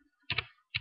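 Typing on a computer keyboard in a short, quiet run: a tap, then a pair of quick keystrokes and one more after a short pause.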